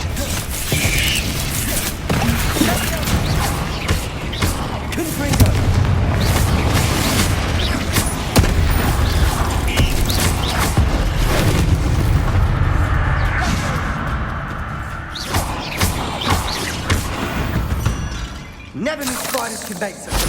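Repeated Confringo fire-spell blasts in the video game Hogwarts Legacy, dense booming and crackling bursts with mechanical clatter, loud and sustained throughout with game sound effects layered over them.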